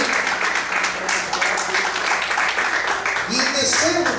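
Congregation applauding in church, a broad wash of clapping with a person talking over it near the end.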